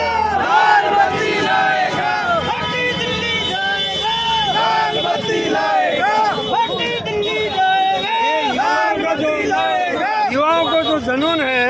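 A huge crowd at a political nomination rally in India shouts and cheers continuously, loud and dense, with overlapping chanting voices and whistles sustained throughout.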